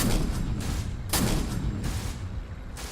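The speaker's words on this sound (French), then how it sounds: "Avec un dernier obus, la machine tira sur le dernier Panzer qui tentait de fuir." A tank cannon firing a shell on a battlefield at war against German Panzers, with several heavy booms and loud blasts in quick succession over a dense, rumbling roar of gunfire.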